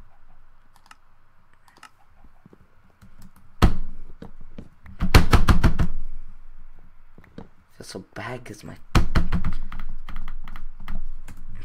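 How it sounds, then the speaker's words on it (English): Someone bangs hard on a computer keyboard and mouse: rapid clusters of loud clacking keystrokes and clicks in uneven bursts, close by, with a person talking in between. "I'm just here banging away at my keyboard mouse thing"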